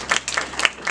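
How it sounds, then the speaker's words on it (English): Small audience at a leadership industry panel clapping for the speakers, a brief, fairly quiet patter of a few hands heard close. "Give a round of applause for each speaker."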